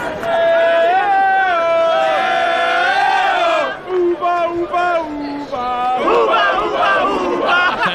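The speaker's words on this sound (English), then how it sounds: "Each remaining player with his own unique cheering section." Packed theatre crowd at a 2008 World Series of Poker Main Event final table, loud continuous cheering and chanting from rival cheering sections with rising whoops and shouted calls, no break for several seconds.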